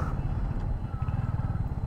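A Royal Enfield Hunter 350 motorcycle runs while being ridden, its engine giving a deep, steady throb with rapid low pulses, close and continuous.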